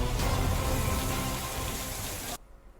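Heavy rain pours down during a storm in Bihar, a dense, loud, steady roar with no talking that cuts off sharply near the end.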